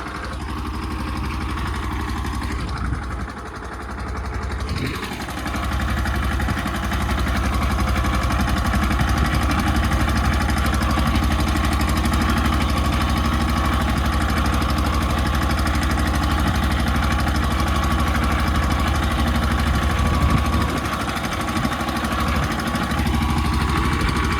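A tractor engine runs steadily at close range in Mandvi, a constant low chugging drone that holds for the whole stretch with little change.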